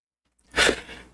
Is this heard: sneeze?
yes